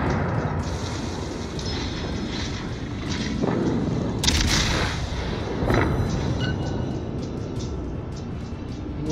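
Warship guns fire in World of Warships, several deep booming blasts spread across a constant rumbling engine and sea-noise bed, with one sharper crack standing out in the middle.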